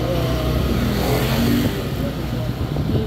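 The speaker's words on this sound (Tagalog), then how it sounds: "Ganda nitong motor ang smooth ng takbo niya." A motorcycle engine runs steadily while riding on a road trip around Puerto Galera, its constant drone loud and close throughout, with people talking over it.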